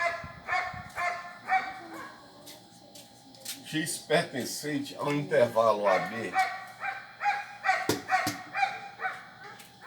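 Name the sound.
dog barking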